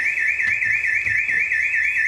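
A house alarm after a burglary wails as a steady, loud electronic warble, a continuous pulsing tone with no one speaking.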